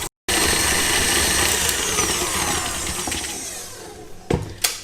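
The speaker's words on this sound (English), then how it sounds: "Start mixing it on a low speed and increase that to the highest speed in your mixer." Electric stand mixer running steadily at top speed, whisking butter and sugar until creamy and fluffy for a gluten-free lemon, almond and ricotta cake; a continuous whirring drone with a brief silence at the start and a couple of clacks near the end.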